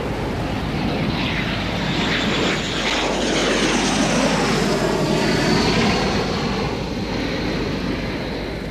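Jaguar and Mirage 2000 military jets move on an airfield taxiway used as a second runway, a loud continuous engine roar with a whine that sweeps up and down as an aircraft passes close by.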